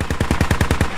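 Rapid automatic cannon fire from a BTR armored vehicle in the SquadOps military game, about eight loud, evenly spaced booming shots in one quick burst.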